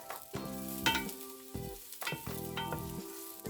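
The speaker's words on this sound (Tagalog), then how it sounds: "Una, gisahin ang bawang sa medium fire." Garlic sautéing over medium heat for a Bicol Express, with a soft frying sizzle broken by a few distinct clinks and scrapes of a utensil against the pan, quiet and close with no talking.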